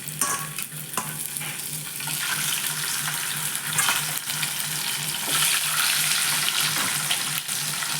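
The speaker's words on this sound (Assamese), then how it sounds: "ফ্ৰাই কৰি ল'ম।" Fish coated in salt and turmeric frying in oil, a steady crackling sizzle with occasional stirring clatters and a faint hum, close and moderately loud, with no talking.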